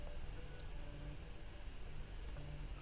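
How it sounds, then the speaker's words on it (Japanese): Harmful rain falls in the video game Mama ni Aitai as a steady, faint hiss of dense drops on surfaces, continuous and even, with no voices. "この雨は体を溶かす有害な雨だ"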